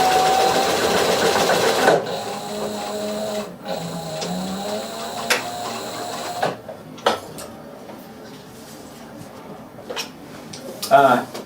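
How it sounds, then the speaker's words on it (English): A sewing machine stitches a rolled edge on a handbag, starting with a steady run, then moving in short bursts and pauses with scattered clicks. Quiet talking is heard in the background. "anytime I'm sewing a rolled edge down, I like to kind of put it on the machine up against the guide first"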